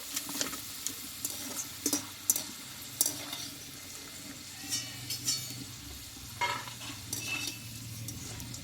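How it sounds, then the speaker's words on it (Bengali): Peanuts fry in hot oil and are scooped out, giving a steady close sizzle broken by repeated sharp scraping and clinking strokes of the spoon against the pan. "বাদামটা কিন্তু ভাজা হয়ে গেছে এই বাদামটাকে আমি তেল থেকে আমি তুলে নেব"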